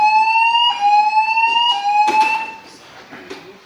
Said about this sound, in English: the siren has gone off. Why is the siren going off? Because it's too hot.